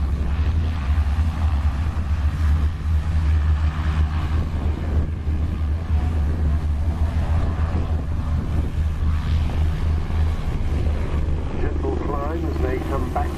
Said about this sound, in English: much of the noise that you hear comes from the main rotor,